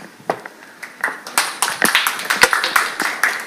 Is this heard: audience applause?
yes